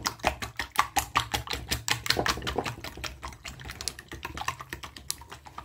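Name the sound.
whisking two whole eggs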